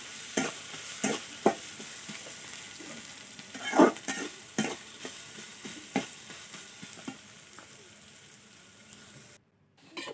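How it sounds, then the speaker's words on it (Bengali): Potatoes and onions with salt and turmeric fry in a pan for a cowpea dish, sizzling softly while a spatula scrapes and taps against the pan in irregular strokes, then falling nearly silent at the end. "খুন্তি দিয়ে এগুলোকে ভালো করে মিশিয়ে নিচ্ছি।"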